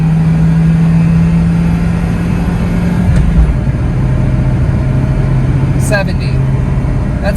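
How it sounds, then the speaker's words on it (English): Inside a Toyota RAV4 pulling up to speed, a steady engine drone with road and tire noise holds throughout, its tone dipping around the midpoint as a gear changes. "It definitely takes a bit of work to get this car up to speed."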